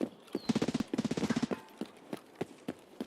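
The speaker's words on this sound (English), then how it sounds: "Mag dump on a scav, Jesus." A rapid automatic magazine dump on a scav in a shooter game, two tight bursts of evenly spaced shots followed by a few slower single shots, fairly close and crisp with no talking.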